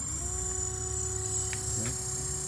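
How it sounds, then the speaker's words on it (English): An electric boat motor powered by a 12V 100Ah lithium battery runs with a steady, close electric hum and faint whine, unbroken for the whole stretch, with no talking. "as you can see, the motor's turning"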